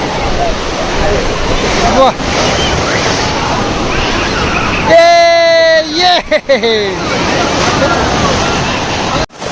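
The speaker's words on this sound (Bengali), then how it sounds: "ঢেউ আসলেই ধরবা" Sea waves roll and wash up on a crowded bathing beach, a steady loud surf roar under babbling voices and shouts of people playing in the water.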